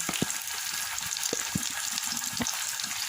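A ground paste of garlic, chili and coriander leaves fries in a pan, a dense continuous sizzle with a few soft pops and stirring knocks, heard up close without voices.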